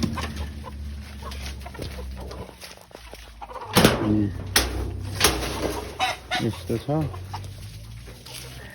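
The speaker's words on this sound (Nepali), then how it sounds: "यो प्योर लोकल भाले हो" Local rooster and hens on a poultry farm cluck in a few short bursts near the mic, mixed with background chatter and someone talking over them.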